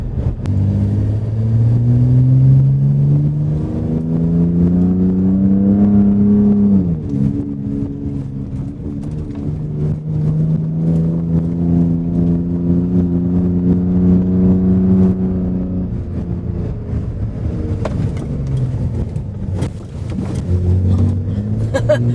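Close, loud engine of a 2021 Ford Raptor pickup truck revving up and down in long surges, rising in pitch then dropping back, with rumbling idle between pushes.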